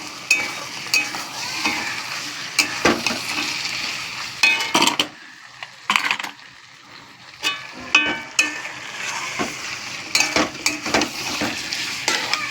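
Goat meat cooks in a pan on a home stove, giving a sizzling hiss with repeated sharp clinks and scrapes of a metal utensil stirring, coming in uneven bursts and short pauses.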